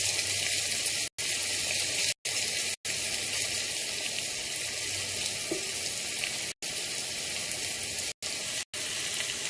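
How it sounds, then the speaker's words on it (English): Onions sizzle steadily in a hot pan for a curry-style baigan bartha, a dense close hiss that runs without letup apart from a few abrupt short breaks. "You need to let the onions fry for a few minutes."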